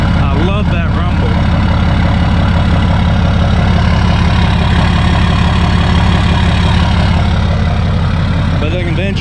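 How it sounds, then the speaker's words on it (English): A flatbed straight truck's exhaust rumbles loudly and steadily at idle before the turbo engages, a deep rhythmic throb close by, with a voice speaking over it. "Listen to how good this exhaust sounds before the turbo starts to do its thing."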